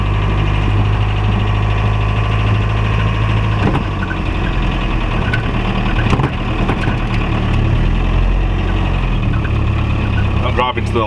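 A bug out vehicle engine drones loudly and steadily while driving slowly through a UK base camp, with occasional knocks and rattles over the continuous rumble.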